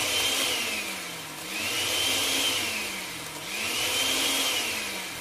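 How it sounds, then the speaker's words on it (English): A kitchen blender whirs loudly, blending ingredients in three rising and falling surges, with the motor pitch dipping between pulses. The whirring is steady and close, and no one talks over it. "And let's blend."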